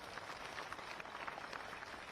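An election rally crowd claps for the prime minister, a faint, distant wash of steady applause that runs throughout without a break.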